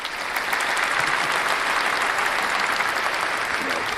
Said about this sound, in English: Let's give a clap for Richard Hart today.